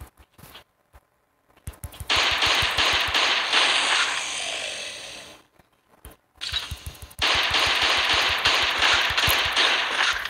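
Shotgun fire in the mobile survival game Last Day on Earth: loud bursts and sharp cracks come in two long stretches, each with quick repeated reports, separated by brief silent gaps.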